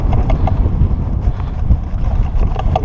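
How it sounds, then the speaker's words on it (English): Steady outdoor wind buffets the microphone with a continuous low rumble and gusty swells, loud and unbroken throughout, with no voices. "it's kind of windy out"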